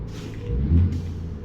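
A deep, low-pitched rumble comes from the engine of a truck with a 36-inch Diamond Back sleeper in American Truck Simulator, a steady drone that swells briefly in the middle and has no talking over it.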